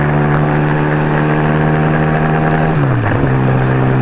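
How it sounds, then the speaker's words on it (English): A small motorcycle idles steadily and loud nearby with a constant low engine drone, its pitch dipping briefly near the end as the revs shift. "I can hear his bike from here."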